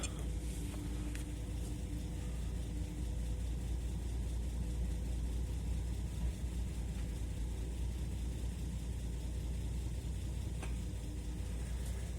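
A 1992 Nissan Patrol's 4.2-litre six-cylinder engine idles steadily on petrol nearby, a constant low rumble with no revving and no voices.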